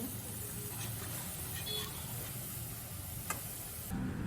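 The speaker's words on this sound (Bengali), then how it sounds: "তেলের মধ্যে বড়াগুলো ভালো করে ঘুরিয়ে ঘুরিয়ে গোল্ডেন ব্রাউন করে ভেজে নিলাম" Ripe mango fritters fry in hot oil, a continuous soft sizzle and hiss with faint clicks as they are turned, fairly quiet and close.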